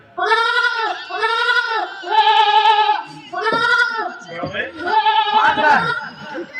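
Goats and sheep bleating in a run of five or six loud, close, wavering calls, one after another with short gaps, some overlapping near the end.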